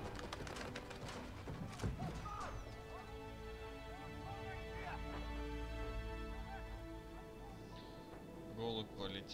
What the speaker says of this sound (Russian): Голубь полетел.